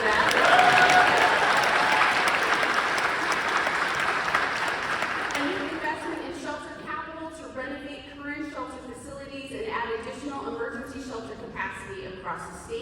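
An audience at a homelessness advocacy rally at the state capitol applauds loudly, and the clapping thins out and fades as a voice speaks over it.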